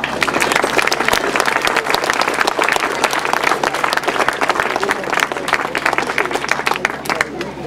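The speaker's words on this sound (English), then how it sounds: "I'd like to please give a round of applause for all the riders for the entertainment they gave you today" Outdoor spectators applaud the riders after a grasstrack motorcycle race meeting, with steady crowd clapping that runs continuously and fairly loud, punctuated by sharper individual claps and some voices mixed in.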